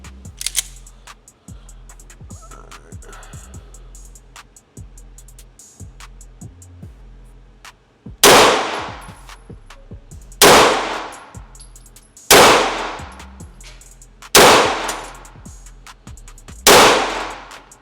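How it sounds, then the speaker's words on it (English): A MAC DS 9 2011 pistol, a Staccato clone, fires five loud, sharp shots about two seconds apart, after a stretch of quiet clicking and handling noises. "so we'll get these last 10 shots in"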